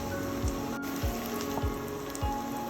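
Onions and curry leaves frying in a pan for chicken green peas gravy, a steady soft sizzle with faint crackles running throughout, close up and without voices.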